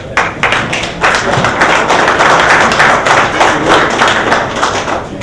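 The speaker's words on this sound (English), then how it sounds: "How many collectors have been collecting since the LJN days? A round of applause." Convention crowd at a WWE toy collectors' Q&A session applauds, dense close clapping with taps and thuds, loud and sustained for several seconds.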